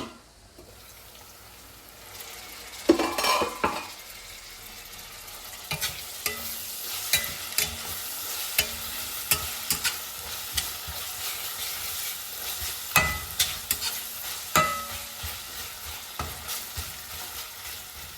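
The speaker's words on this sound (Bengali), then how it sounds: "একটু ভালো করে ভাজা লাগে এই পেঁয়াজগুলো" White onions frying in a pan, with a steady sizzle and hiss close up, broken by frequent scrapes and knocks of a spoon as they are stirred, and no voices.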